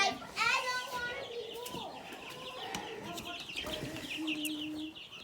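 Chickens let out of a box cluck and squawk nearby in short, repeated bursts, with a voice talking in the background.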